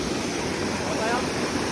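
Steady broadband rush of a waterfall in Korea, a continuous even wash of falling water filling the short clip with no breaks.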